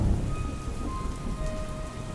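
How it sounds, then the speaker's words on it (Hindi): Heavy rain drumming steadily on a tin roof at a small village railway station at night, with a low rolling rumble of thunder underneath the dense patter. "बारिश की बूंदें टीन की छत पर लगातार टप टप की आवाज कर रही थी"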